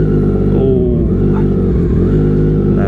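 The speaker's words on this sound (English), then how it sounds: "let's see if the bike will start." A 2020 Triumph Street Triple 765RS motorcycle engine running loud and close after sitting unridden for over a month, a steady dense mechanical drone with slight revving swells throughout.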